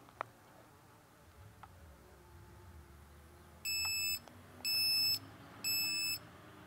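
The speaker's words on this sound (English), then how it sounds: "You're going to hear a series of beeps along with some ultrasonic tones" A solar-powered ultrasonic animal repeller sounds three electronic beeps in a row, each lasting about half a second, clear and piercing over a quiet background.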